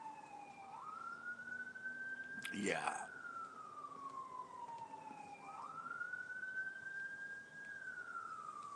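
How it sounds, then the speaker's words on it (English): A siren wails in slow rising and falling sweeps, fairly distant, with a brief voice and a passing whoosh partway through. "I hear sirens."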